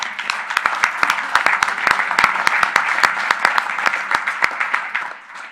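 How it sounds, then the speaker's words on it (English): A conference audience at an Internet Governance Forum community networks session gives a sustained round of applause, with loud individual claps standing out from the dense crowd clapping before it tapers off at the end. "I want to give everyone a huge round of applause"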